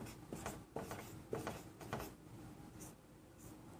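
Pen or chalk writing by hand while working a Class 10 trigonometry problem with the Pythagorean theorem: a run of scratchy, uneven strokes at close range, alone, fading to quieter marks near the end.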